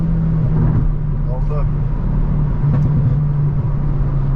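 A car engine roars close and loud with a steady low drone while accelerating hard in a rolling drag race between a Hyundai i20 N and a BMW 530i, heard from inside the cabin while people talk.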